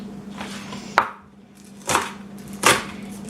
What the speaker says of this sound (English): just chop these up